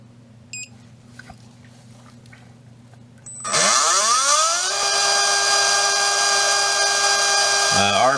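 A small electric motor on a cheater build spins up suddenly after a quiet stretch, its whine rising quickly to a loud, steady high-RPM scream near 24,000 RPM, then dipping briefly at the end.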